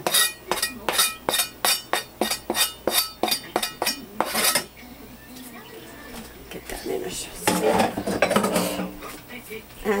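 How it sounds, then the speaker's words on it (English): Metal cookware clanks and clinks in a rhythmic series of about a dozen sharp, close hits while lobster goes into a pan for shrimp scampi with white wine sauce, then softer kitchen clatter follows with a person talking. "And now I'm going to go ahead and add in the lobster."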